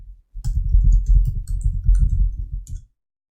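Quick, close rattle of keys being typed on a computer keyboard, a dense run of soft clicks lasting a few seconds before stopping, with no voices.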